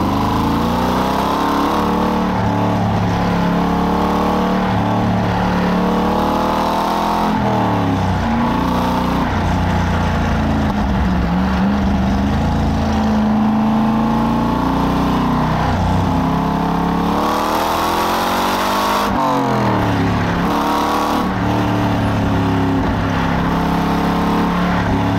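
A 2002 Chevrolet Corvette C5 Z06 sports car drives on British roads, its V8 engine droning loud and close throughout, rising and falling in pitch as it accelerates through the gears, with no talking.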